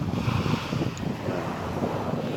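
Wind buffets the microphone at a beach while waves and surf wash in continuously, a loud, broad, unbroken roar with no distinct breaks.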